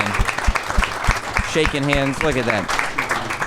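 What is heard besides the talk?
audience applause for a guest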